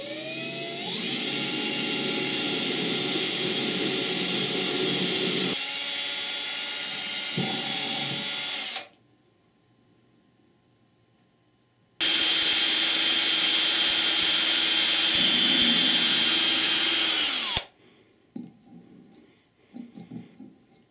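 A high-pitched power drill whines loudly through two long runs into a metal transmission casting, separated by a brief quiet gap, with rattling and clunks as it winds down.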